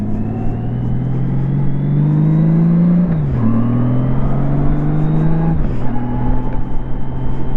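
A 2002 Honda GL1800 Goldwing motorcycle cruises at highway speed, its engine hum climbing steadily through gears with two brief dips at shifts, loud and near with heavy wind rush.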